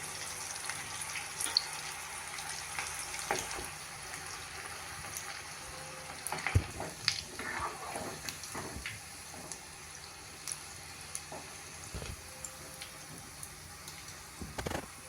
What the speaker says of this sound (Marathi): आता आपण याच पद्धतीने सगळे बॉल्स तळून घ्यायचे आहेत